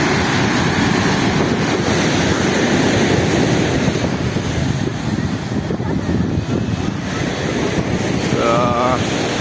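Sea waves at RK Beach in Visakhapatnam roll in with a continuous, loud surf roar, mixed with gusty wind buffeting the microphone throughout.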